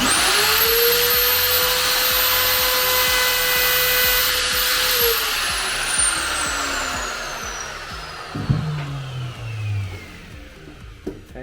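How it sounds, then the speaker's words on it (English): Power router cuts a shallow recess for a door hinge in wood on a widebeam canal boat, a loud high whine that runs steadily close up, then winds down with a falling pitch and a few clunks as it stops. "now I'm just going to very carefully router this out."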